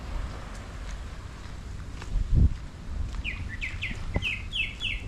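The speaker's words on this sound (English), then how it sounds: "And listen to the birds" Birds chirp outdoors by the sea on Bonaire, a series of short, high, fairly faint calls over a soft background of water and wind, with a brief low thump near the middle.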